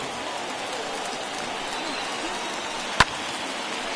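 Crowd of over 39,000 at a Chicago White Sox baseball game, a steady roar of cheering and applause that fills the space, with one sharp crack near the end.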